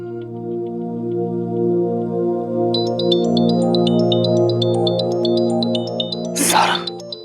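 A phone rings with a repeating electronic ringtone melody over sustained background music, followed near the end by a short burst of noise.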